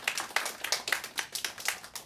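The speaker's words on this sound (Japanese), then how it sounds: "皆さん拍手でどうぞ。" A small audience at an acoustic music contest in a shopping mall gives scattered, quiet applause: a thin stream of separate, irregular hand claps that stays fairly distant.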